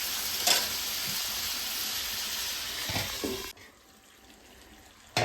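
Chicken pieces sizzle and fry steadily in a pan over medium heat, with occasional scraping stirs, before the sizzle drops sharply to a quieter simmer and then briefly surges again.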